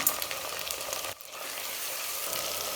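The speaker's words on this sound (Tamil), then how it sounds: "தக்காளி நல்லா வதங்கி வரட்டும்" Tomatoes fry in a pan with ginger garlic paste and salt, giving a loud, close, steady sizzle with a short dip as the pan is stirred, no voices.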